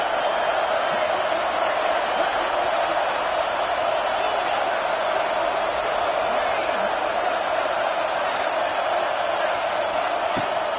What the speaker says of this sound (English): crowd busting the decibel meter and trying to will a fourth down stop.